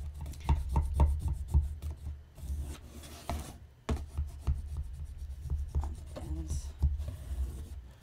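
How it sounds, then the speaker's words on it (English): Wood on a potting bench piece is rubbed and burnished on its inside with quick repeated scraping strokes, close and moderately loud, broken by a brief pause and some handling knocks. "I'm going to flip it over and I'm going to give it another really good burnish on"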